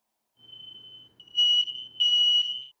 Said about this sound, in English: Sounds like someone's fire alarm just went off. Or smoke detector, I guess I should say.